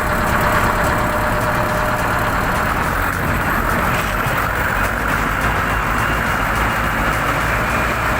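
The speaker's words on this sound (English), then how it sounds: "This TDT-55 is just spinning its tracks in the thick, wet snow." A TDT-55 tracked skidder's engine labours while its tracks spin in thick, wet snow, giving a loud, constant, close roar with no break and no voices.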